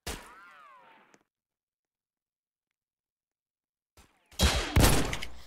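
A short burst of gunfire in a Roblox shooter game, coming after a brief bit of talk and a long silence: several loud, close cracks cluster together over about a second, then trail off.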